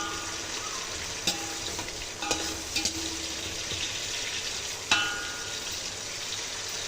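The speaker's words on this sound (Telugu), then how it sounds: "ఆనియన్ గోల్డెన్ బ్రౌన్ కలర్ వచ్చేంత వరకు ఫ్రై చేసుకుందామండి" Sliced onions fry in hot oil until golden brown for a chicken biryani, a steady sizzle broken by a few sharp spoon scrapes and clinks against the pan.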